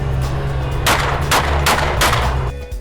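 Walther PDP pistol fired at an outdoor test, four sharp, loud shots in fairly quick succession, each a hard crack with a short ringing tail.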